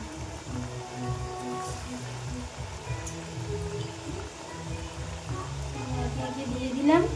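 Pakoras dropped one by one into hot oil seasoned with black cumin, in a home kitchen in Kolkata, crackle and sizzle steadily with a rain-like hiss, moderately close.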